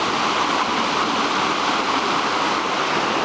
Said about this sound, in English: And here's the brook again.